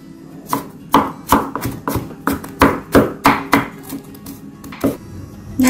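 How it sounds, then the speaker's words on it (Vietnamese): Rapid knife mincing of onion on a cutting board, about a dozen sharp, uneven knocks in quick succession, close and loud with no voices. "Hành này thì mình sẽ sắc mình băm nhuyễn luôn nha"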